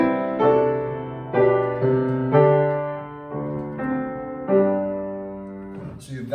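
A piano plays the final phrase of a Bach chorale as a slow series of sustained chords, each struck clearly and left ringing, ending with a soft noise.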